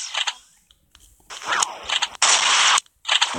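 Short, sharp bursts of video game gunfire come in several separate volleys with brief gaps between them, loud and close.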